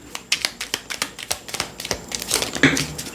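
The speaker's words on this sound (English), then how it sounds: "I shuffle until a card jumps out" Oracle cards being shuffled by hand, a close, rapid run of papery flicks and riffles in quick irregular bursts that thicken toward the end.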